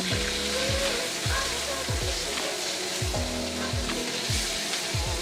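Lion's head pork meatballs sear in a hot pan, giving a loud, continuous close-up sizzle with soft recurring low thumps underneath.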